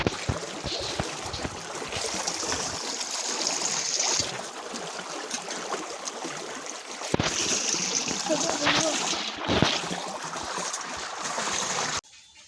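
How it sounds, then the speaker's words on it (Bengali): Water splashes and trickles steadily as fish are washed by hand, a continuous close wash of sound lasting about twelve seconds with small louder surges. "আমি একটা মাছগুলো ভালো করে ধুয়ে নিচ্ছিলাম"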